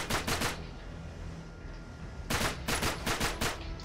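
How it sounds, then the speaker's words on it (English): Two bursts of rapid automatic gunfire in the video game Uncharted 3, a short volley, a quiet pause, then a longer rattling burst, loud and close. "Just trying to get some gunfire on that guy with the laser sight."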